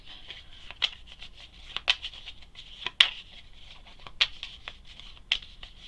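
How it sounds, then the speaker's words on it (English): Cards of the Automa deck for the Wingspan board game are shuffled by hand close up, giving soft riffling and rustling with several sharp slaps and snaps spread across the quiet passage. "Shuffle them up."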